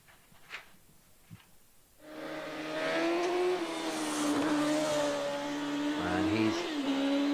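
A Darien T90 rally car with a Vauxhall engine races up the Wiscombe Park hillclimb, arriving after two quiet seconds as a loud, close, sustained engine roar that holds steady to the end.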